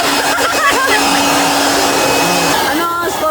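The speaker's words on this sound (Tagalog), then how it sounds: "Ito, blower." Steady broadband rush of a blower used like a hair dryer, aimed at a man's face, running loud and continuous with a few faint voices in the background.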